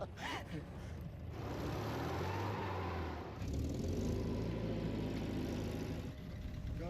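The engine of a Pinzgauer military vehicle runs at a steady low rumble, then revs up a little partway through, with some talk over the noise.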